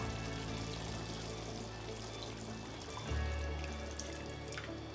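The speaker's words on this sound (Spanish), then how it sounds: "sé que necesita un poquito más de agua." Water added from a tap to a mixed chicken and seafood paella with rice, a steady close stream of running water that shifts to a deeper, fuller gush near the end.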